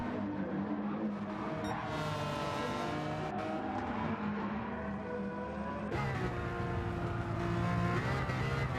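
A GTO race car engine roars continuously at high revs during a time trial, its pitch rising and falling through gear changes, loud and close as if heard from inside the car.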